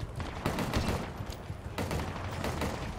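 A jackal sniper fires in the Halo Infinite video game, heard as repeated sharp gunshot bursts amid loud, continuous battle noise.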